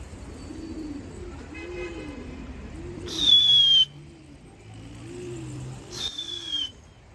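Pigeon cooing on an empty rooftop loft where a stray pigeon has settled, soft repeated coos running low and steady under a couple of brief sharp chirps, fairly near.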